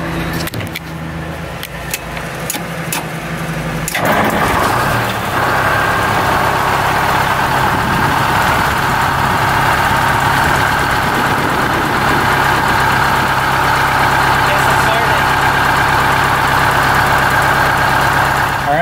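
A diesel-sounding engine cranks briefly after a fuel filter change, catches around four seconds in, and settles into a loud, steady idle with a persistent low hum and mid-range drone.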